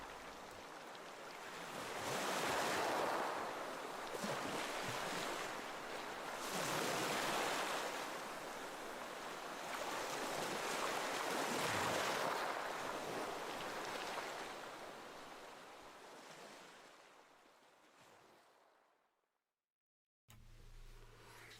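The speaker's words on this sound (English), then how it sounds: "A soft breeze was blowing as we watched the gentle surf roll in." Gentle surf rolls in at Banana Beach in Tel Aviv on a breezy evening, with soft waves swelling and receding in slow, even surges before fading to silence.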